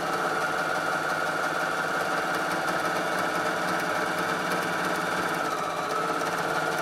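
Bernina sewing machine running nonstop while stitching a rolled hem to make a fluted edge, a fast, dense mechanical buzz held at steady loudness throughout, close up with no voices.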